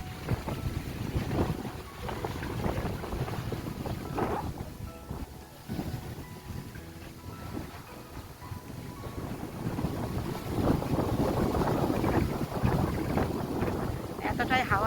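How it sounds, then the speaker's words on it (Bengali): Strong wind buffets a handheld camera outdoors at the old village of Zaanse Schans in the Netherlands, producing continuous low rumbling gusts that rise and fall, while a person talks over the noise. "এতটাই হাওয়া যে ক্যামেরাটা নিয়ে ধরে দাঁড়িয়ে থাকতে পারছি না।"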